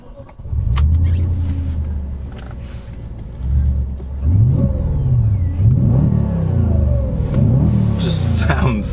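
A beaten-up old Audi S4 starts up and pulls away on the road, its engine rumbling loud and close, rising through revs with shifting gear-like sweeps; a voice is faintly heard over it.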